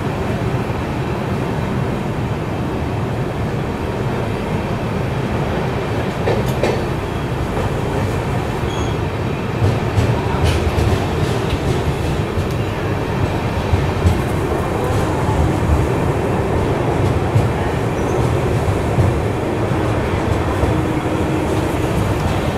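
A Bangalore Rajdhani train overtaking the Secunderabad East Coast Express near Kazipet, heard from inside a first AC coach as a steady, loud rumble of wheels on rails with faint clatter throughout and no talk.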